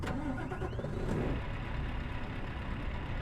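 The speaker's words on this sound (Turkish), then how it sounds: "Şimdi yavaştan şöyle kontağımıza basalım." A truck engine in Euro Truck Simulator 2 cranks and catches, then settles into a steady low idle rumble, close and without talk.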